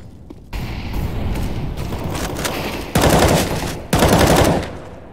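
Automatic gunfire in the video game CS:GO, with rapid sustained bursts of shots and two louder volleys near the end, close and dense, with no talking over it.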